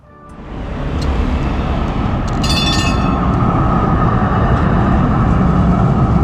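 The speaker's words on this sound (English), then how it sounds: "now it's time to take a look at the arrival of our train today" A heritage tram in Düsseldorf rumbles in, its loud rolling noise building quickly and then holding steady, with a brief metallic squeal partway through.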